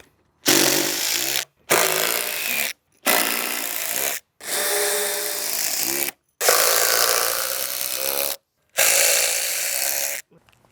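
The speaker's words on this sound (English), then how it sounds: "That's a hard working drill right there." A hard-working power drill driving into deck lumber while building deck blocking, running in six long bursts of a few seconds each with short pauses between, loud and close.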